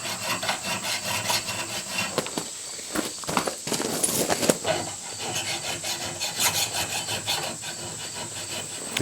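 A dirty metal file scrapes back and forth across steel along a bevel line for a belt axe, repeated rasping strokes, loud and close, with a few sharper scratches along the way.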